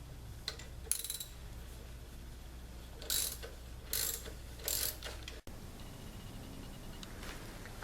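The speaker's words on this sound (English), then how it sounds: "I'm gonna turn the adjustment bolt counterclockwise, and by doing this, I'm gonna release tension on the drive belt" A ratchet clicks in short bursts as it turns the drive belt adjustment bolt on a 1997–2001 Toyota Camry, close up over a low steady hum, with no talking.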